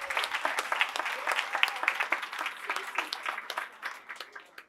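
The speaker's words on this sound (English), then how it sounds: "So let's make sure we give them a round of applause." Steady outdoor applause at a park church service for the volunteers who grilled since early morning, a fairly faint, even patter of many hands with a few whoops.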